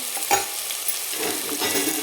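Ginger-garlic paste sautéing with mutton in a pan for sukka mutton: a steady close sizzle with scraping stirring strokes and a few sharper clinks, no voices.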